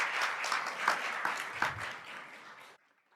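An audience applauds at a school governing board meeting, a steady burst of many hands clapping close by that carries on for nearly three seconds and then stops abruptly.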